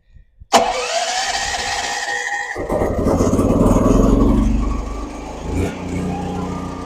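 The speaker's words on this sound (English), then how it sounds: "Okay, so generator's running." A tri-fuel home backup generator cranks with a sharp starter whir, catches and roars up to speed, then settles into a loud, steady running drone close by.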